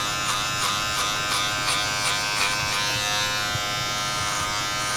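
Electric hair clipper buzzing steadily up close while cutting a mid fade in a barbershop, a continuous harmonic hum with faint rhythmic pulses as the blade passes through hair, no talking.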